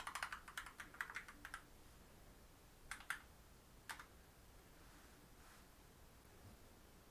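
Quick, faint keystrokes tap on a computer keyboard, a rapid run of clicks followed by a few scattered presses over a soft background hiss, with no one speaking.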